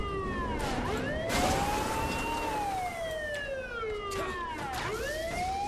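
Ambulance siren in the video game Saints Row: The Third, a loud wailing tone that rises and falls in long sweeps over a steady engine rumble, with a quicker yelp near the end.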